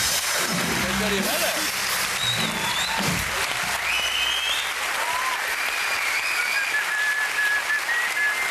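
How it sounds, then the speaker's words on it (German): A studio audience on a late-night comedy show whistling shrilly over loud, continuous applause, the sustained whistles rising and falling, with a voice talking underneath early on. "Hör doch auf mit dem Gepfeife!"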